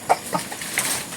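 A chicken gives a few short, quick clucks close by on a farm where cucumbers and bananas are harvested, with light background noise and no talking.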